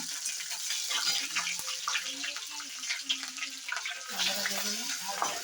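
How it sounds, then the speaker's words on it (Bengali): Bay leaves and chili frying in hot oil along with cinnamon and cloves, a steady close crackling sizzle with scattered spits and pops, while low music or background sound runs underneath. "এবার দিয়ে দিল তেজপাতা, দিয়ে দিল, একটু ভেজে নেবে।"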